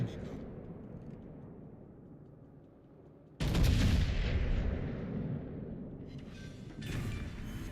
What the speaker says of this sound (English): the Plymouth is shooting me again